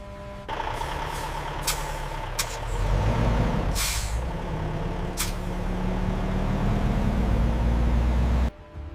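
A truck with air brakes idles loudly and close by during pallet loading, with several sharp hissing air-brake releases over the steady engine rumble.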